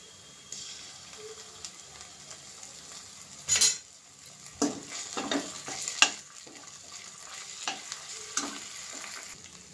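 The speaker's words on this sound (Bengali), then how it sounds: "পেঁয়াজটা ভাজা ভাজা হয়ে গেছে, এবার এর মধ্যে দিয়ে দেব" Onions fry in a pan and chopped ginger is added, giving a soft continuous sizzle broken by a few louder scrapes and metallic stirring clinks from a utensil.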